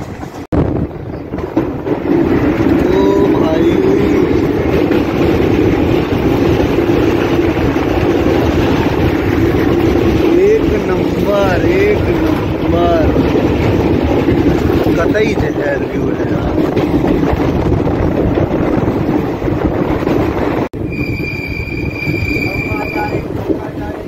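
The Koyna Express passenger train rolls along the rails between Karad and Khandala, a continuous rumbling clatter heard from on board with wind noise over it, steady for over twenty seconds.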